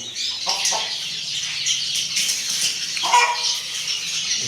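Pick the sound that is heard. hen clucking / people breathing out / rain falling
hen clucking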